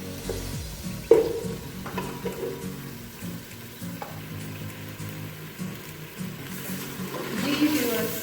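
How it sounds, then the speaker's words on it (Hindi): Masala for aloo matar gosht fries in a pan with a few spoons of added water, giving a steady soft sizzle while a spoon stirs and scrapes, with occasional knocks against the pan. "ये देखिए बहुत अच्छा मसाला हमारा भुन चुका है।"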